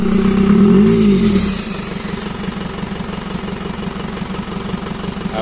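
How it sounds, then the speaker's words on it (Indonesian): An Isuzu Panther engine runs close by. It is loud with a brief rising rev at first, then settles into a steady, rhythmic knocking idle. There is no talk. "untuk mesin sudah hidup, sudah menyala."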